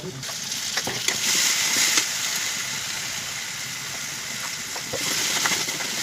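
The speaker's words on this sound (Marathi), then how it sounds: "आता हे दुसऱ्या कढईमध्ये कांदा घातलाय" Onion frying in a kadhai (wok) for a homemade mutton dish, giving a steady, close sizzle with faint stirring clicks throughout.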